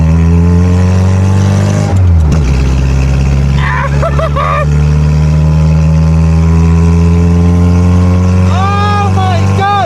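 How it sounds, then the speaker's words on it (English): A Reliant Reaper at speed drones with a deep, booming bassy exhaust and a loud, steady engine note that shifts pitch briefly early on. Voices exclaim over it near the middle and end. "The bass from that exhaust is so intense that it's wobbling the wing mirrors."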